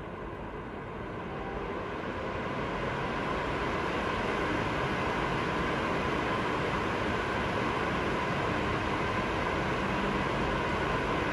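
A Philips Series 800 AC0820 air purifier runs on a higher fan speed, a steady broadband whoosh of airflow that rises slightly in the first second and then holds constant and close, with no voices.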